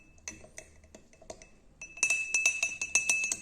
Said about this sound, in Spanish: Ahora voy a revolver el vinagre que se ve como todo un heterogéneo